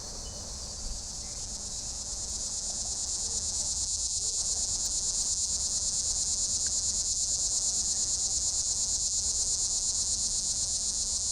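Crickets chirping outdoors on a summer night, a dense continuous high trill from many insects, steady and unbroken, with faint low background rumble and no talking.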